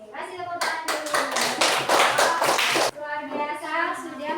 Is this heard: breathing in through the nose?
no